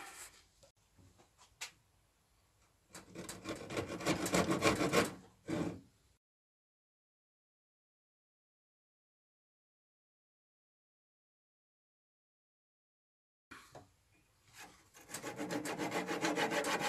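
A wooden corner post for an outdoor shower enclosure is cut by hand in a workshop, with rasping saw strokes that build after a few light scrapes, then a long silence before the sawing starts again, close and steady.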